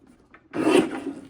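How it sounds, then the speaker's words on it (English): A paper trimmer blade slices through a strip of card stock, a single short rasping cut that swells and fades within about a second, close and clear with no voices. "Take this larger strip, we'll trim at 11 1/4"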